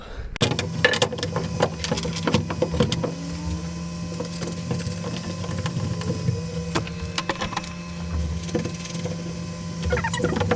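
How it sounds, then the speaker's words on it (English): Parts are bolted into freshly drilled holes inside a 2022 Ram ProMaster 159 high-roof van, with a steady mechanical whir of a power driver and repeated clicks and ratcheting taps running throughout at close range. "Now let's bolt them up."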